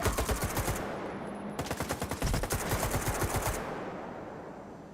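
Rapid single-fire gunshots from a weapon in S.T.A.L.K.E.R. 2, sharp repeated cracks in quick bursts with brief pauses, loud and close, then a fading tail into quiet.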